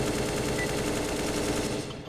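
Continuous rapid automatic rifle spray in Counter-Strike: Global Offensive, a dense unbroken stream of close, loud shots lasting the full stretch before cutting off.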